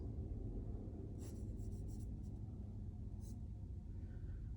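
Faint strokes of a pencil sketching contour lines lightly on paper, a few short scratchy passes over a low background rumble, quiet and close.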